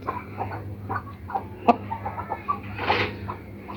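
Asil rooster clucking in short, soft bursts at close range while its legs and feet are being treated, with light handling noises between the calls.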